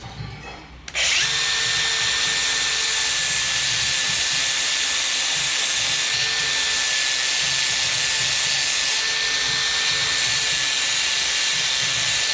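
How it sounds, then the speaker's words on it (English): A power tool trims steel tube for a car exhaust, starting abruptly and holding a loud, steady high-pitched whine and hiss for about eleven seconds with no pauses. "just got done trimming the tube so it can fit between 1 3/4 inch tube"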